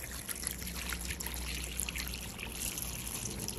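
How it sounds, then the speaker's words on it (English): Water pours steadily into a small, cheap portable washing machine, a faint continuous trickle and splash with no talking. "So I'm going to put some more water in here."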